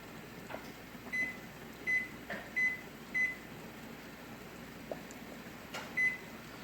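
A kitchen timer is set for pressure canning ground beef, giving a series of short, clear electronic beeps, four in quick succession and then one more a few seconds later, over a quiet room hum.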